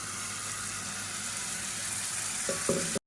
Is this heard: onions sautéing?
yes